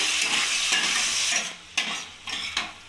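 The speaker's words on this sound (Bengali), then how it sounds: "এবার ভালো করে নাড়িয়ে নেবো আমি" Capsicum, onion, tomato sauce and soy sauce stirred in a hot frying pan for chilli chicken, a steady close sizzle broken by several sharp scraping strokes of the spoon, with no talking.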